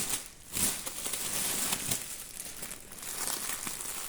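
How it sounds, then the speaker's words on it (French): Plastic wrapping crinkling and rustling close up as a Temu compartment storage box is unpacked, with bursts of louder crumpling. "J'en ai pris deux, donc je vais en déballer une pour voir."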